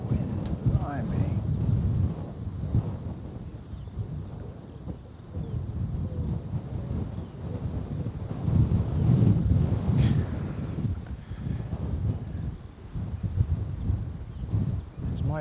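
Gusty wind buffets a microphone outdoors at Bristol Airport, a steady low rumbling roar that swells and eases for the whole stretch, with someone talking over it.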